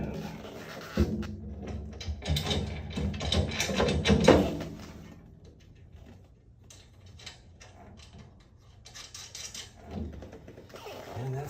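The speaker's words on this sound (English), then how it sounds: "So I'm going to put the final bolt in." Metallic ratcheting clicks and scraping as the last bolt is fitted and tightened on a KANDO Gear soft wheel kit for a grill, in a close, uneven burst that then settles into quieter handling noise, with brief talk in places.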